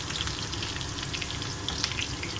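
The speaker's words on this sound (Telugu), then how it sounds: "ఆనియన్, కరివేపాకు, గోల్డ్ కలర్ వచ్చే వరకు ఫ్రై చేసుకున్నాము." Onions and curry leaves fry in a pan with a steady, soft sizzle and faint crackles for a couple of seconds, no voices.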